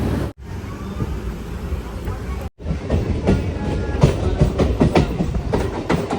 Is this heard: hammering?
no